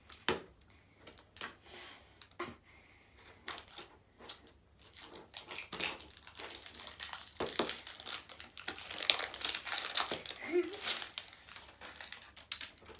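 A paper wrapper crinkles and rustles as a LOL Surprise toy is unboxed, close-up bursts of crackling that grow busier and denser toward the end, with a voice speaking in between.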